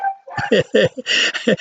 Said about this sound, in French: Vous entendez pas mon chien?